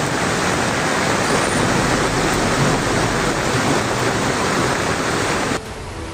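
Floodwater from a cloudburst surging over a river bridge in the Himachal–Uttarakhand hills, a loud, steady broadband roar of rushing water that holds constant for over five seconds before dropping away abruptly near the end.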